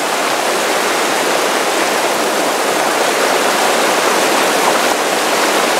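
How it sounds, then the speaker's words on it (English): A waterfall on the Minneapolis riverfront pours in a loud, steady roar of falling water, dense and unbroken throughout, with no voices over it. "And this is the waterfall."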